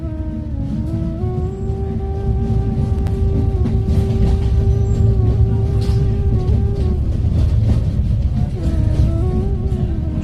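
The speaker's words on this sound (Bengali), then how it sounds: "ধীরে ধীরে ট্রেন স্টেশন ছাড়লো।" A train pulls out of a station with a loud, steady low rumble, a droning engine tone that shifts slightly in pitch, and faint clanks on top as it gathers pace.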